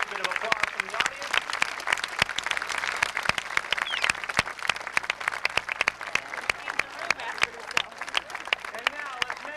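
At an elephant show in a wild animal park, an audience claps steadily and loudly throughout, a dense wash of applause with crowd noise and a voice speaking over it.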